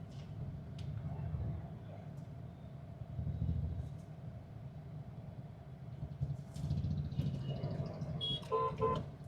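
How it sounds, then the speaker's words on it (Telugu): Busy evening city traffic in Kakinada, a steady dense rumble of engines and vehicles with a few horn toots standing out near the end. "చూడండి ఫ్రెండ్స్, ఈవినింగ్స్ కాకినాడ సిటీ ఎంత రష్గా ఉంటుందో. బాగా ట్రాఫిక్ ఎక్కువ ఉందండి."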